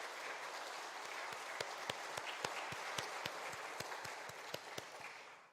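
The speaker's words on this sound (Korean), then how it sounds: "은혜로운 말씀으로 우리에게 많은 은혜를 주신 우리 교수님께 감사하다는 박수 한번 치겠습니다" A church congregation at a Sunday afternoon worship service applauds, a steady wash of many hands clapping with a few sharper individual claps standing out, heard at a moderate distance without talk.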